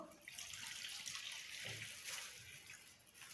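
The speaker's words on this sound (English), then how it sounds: "Then you pour in your methanol." Methanol is poured from a container into a separate bowl, a faint, steady liquid trickle and splash lasting throughout.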